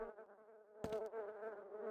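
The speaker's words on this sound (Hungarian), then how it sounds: "Megjelentek a legyek." Flies buzz around a corpse in Quake II, a steady insect drone that hums continuously for about two seconds, with a brief louder burst of game noise cutting through midway.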